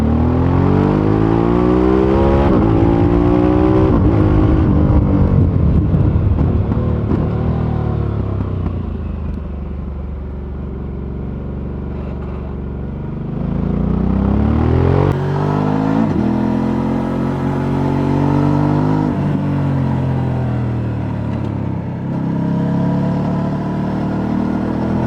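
A 90-degree V-twin motorcycle engine, Ducati-like in character, revs loud and close, rising and falling through several long sweeps of pitch over a steady throaty rumble, with no voices.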